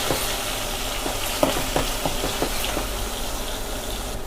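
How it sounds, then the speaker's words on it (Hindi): Ginger-garlic paste frying in oil with browned onions for mutton biryani, a steady close sizzle with a few sharp clicks of a stirring spoon against the pot, no voices. "अभी आप देख सकते हैं इसमें हम शामिल कर रहे हैं अदरक लहसुन का पेस्ट, और इसको अभी थोड़ा भुनाई करेंगे"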